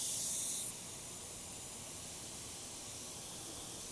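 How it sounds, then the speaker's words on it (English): An airbrush spraying alcohol ink onto a stencil gives a steady, close, even hiss, louder and brighter for the first moment before settling into a softer continuous spray. "My trusty airbrush."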